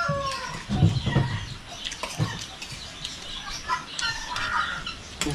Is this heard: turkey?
yes